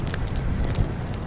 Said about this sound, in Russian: Подожжем сначала кубик.